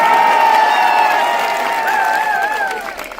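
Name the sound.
audience applauding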